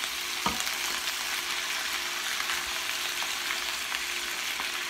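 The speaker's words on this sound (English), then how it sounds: "I'm just gonna mix these all together." Chicken lo mein ingredients are mixed together in a hot pan, giving a continuous, even frying sizzle with a few faint utensil clicks and no talking.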